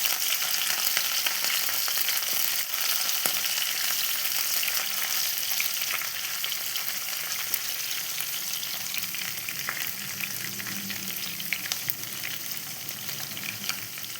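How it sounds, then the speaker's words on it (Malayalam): Curry leaves, garlic and ginger sautéing in a pan make a constant, close hiss of hot oil that holds steady throughout, with faint occasional stirring and no speech. "എല്ലാം കൂടി ഒന്ന് വഴറ്റി വെക്കാം. ഇവരെല്ലാം നല്ലോണം വഴന്ന് വരണം."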